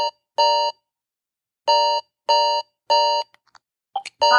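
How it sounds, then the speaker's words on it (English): A Smart Vision 3 piezo alarm sounding a loud, shrill electronic beep in a broken pattern: one long tone, a pause, then three evenly spaced long tones, closing with a few short chirps and a final burst. "Piezo alarm."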